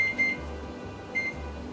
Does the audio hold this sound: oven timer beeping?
yes